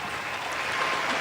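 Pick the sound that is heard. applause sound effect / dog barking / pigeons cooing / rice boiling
applause sound effect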